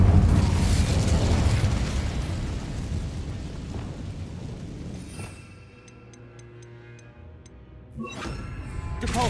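In Hogwarts Legacy, a fire spell is cast with a loud fiery burst and roar that slowly fades over several seconds. A few small ticking chimes follow, then another whooshing burst.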